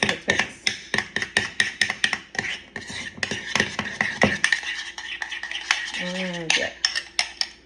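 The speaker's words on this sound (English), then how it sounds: "And so now I'm gonna mix." Spoon stirring deviled egg filling with pickle and sugar in a bowl, rapid repeated scraping and clinking strokes close by, a short voice sound toward the end.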